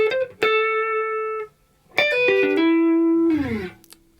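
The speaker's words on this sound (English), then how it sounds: "we've got a little guitar overdub which sounds like this" A clean electric guitar overdub from the verse riff of a song. Bright sustained single notes ring out loud and close, followed by a phrase that slides up the neck, with no voice.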